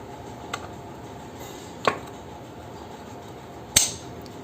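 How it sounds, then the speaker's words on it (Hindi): A selector pin seats into the gearbox of a Bajaj CT 100, Platina or Boxer motorcycle during gear assembly, giving three sharp metallic clicks, the last the loudest, close by over a quiet workshop background. "ये लगने के बाद कुछ इस तरीके का साउंड आता है जिससे हम समझ सकते हैं कि ये हमारी पिन बैठ गई है।"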